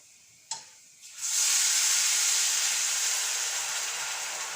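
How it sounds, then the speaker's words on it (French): White wine hits a hot pan to deglaze it and breaks into a loud, steady steam hiss and sizzle after a sharp clink, then slowly fades over a few seconds. "je viens déglacer tout de suite avec le vin blanc"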